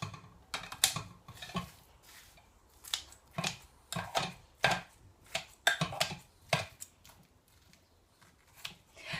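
A knife roughly chopping thawed frozen peppers on a board, a dozen or so crisp, uneven cuts landing close by in quiet surroundings.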